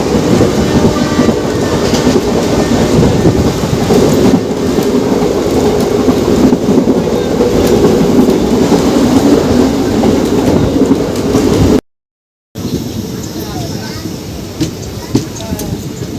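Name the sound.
express train running on the rails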